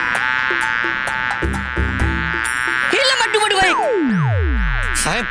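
A honeybee buzzes through a comedic fantasy TV episode, its whine mixed with swooping cartoon sound effects, dramatic music and a loud, busy soundtrack throughout.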